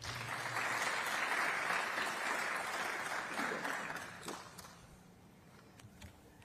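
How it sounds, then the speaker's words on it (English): An audience at a city summer internship closing ceremony applauds the interns, a full burst of clapping that swells, holds, then thins out to a few scattered claps near the end. "can y'all clap it up for our interns?"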